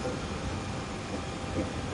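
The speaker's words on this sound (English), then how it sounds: "She's a pretty strong train." A train locomotive runs in the Train Simulator 5 video game, producing a steady, low, moderately faint rumble with no clear breaks.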